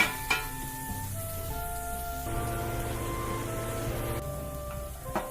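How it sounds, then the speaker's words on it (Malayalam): Tomatoes cooking down in a pan for a Kerala-style squid roast over a medium flame are stirred now and then, giving a steady close sizzle with a few sharp scraping clinks of the spoon against the pan. "തക്കാളി നന്നായി വെന്തുടയുന്നത് വരെ കുക്ക് ചെയ്തെടുക്കാം. ഇടയ്ക്കിടയ്ക്കൊന്ന് ഇളക്കി കൊടുക്കുക."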